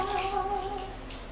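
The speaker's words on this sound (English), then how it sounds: "Now I'm going to pour the sauce over this." Sauce poured over an Italian veggie pot pie: a brief, close, wet gurgling pour with a few tonal glugs that fade out within a second and a half.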